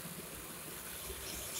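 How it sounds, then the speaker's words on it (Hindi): Water poured from above into atta halwa cooking in a kadhai makes a faint, steady watery gush. It holds evenly for a moment and swells slightly at the end. "अब इसमें थोड़ा सा पानी और ऐड करेंगे"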